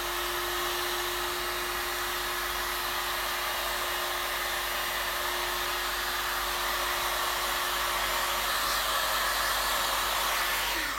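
A hot-air heat gun blows steadily on polymeric vinyl to restore its shape, giving a constant loud whooshing hiss with a steady motor whine underneath, close by and without talk.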